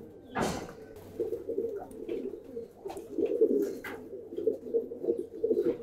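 Giribaz pigeons in a loft coo in a continuous low rolling chorus from several birds close by, broken by a sharp knock near the start and faint scattered clicks.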